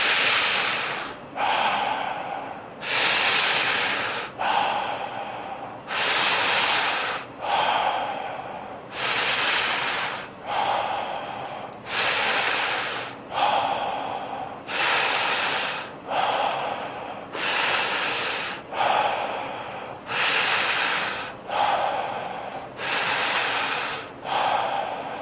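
Cycles of forceful rhythmic breathing in a guided breathing exercise, each loud inhale and exhale repeating evenly about every two seconds, close and unaccompanied by talk.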